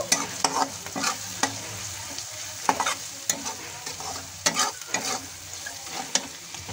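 Ground turmeric, coriander and red chili powder fry in a pan while being stirred for a Bengali eggplant and pangas fish dish, giving a steady close sizzle broken by repeated scraping strokes of the spoon.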